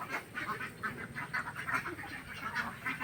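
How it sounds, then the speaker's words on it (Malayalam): A flock of native Kuttanad ducks in Kerala quack repeatedly in a busy, overlapping chorus, fairly faint and steady across the short stretch. "ഇതാണ് നമ്മുടെ കുട്ടനാടൻ താറാവുകൾ"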